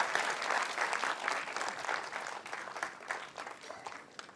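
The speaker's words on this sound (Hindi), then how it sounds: "जोरदार तालियां।" An audience at an Atomy India felicitation event applauds with steady, moderately loud clapping that thins out slightly toward the end.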